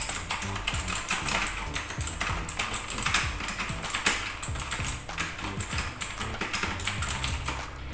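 Fingers type quickly on a computer keyboard, producing a dense, continuous patter of sharp clicking keystrokes at close range, steady and moderately loud throughout with no voices.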